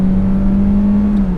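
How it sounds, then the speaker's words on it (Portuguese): A Peugeot 2008 Allure Pack accelerates at full throttle uphill from about 60 km/h, its engine a loud, steady drone heard close from inside the cabin. "eu vou reduzir a velocidade aqui para cerca de 60 km por hora e vou pisar tudo"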